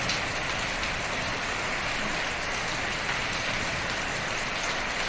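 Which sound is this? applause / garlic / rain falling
rain falling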